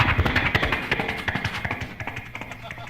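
A voice imitates horses galloping with rapid, rhythmic clopping thuds in a steady triplet pattern, close and fairly loud.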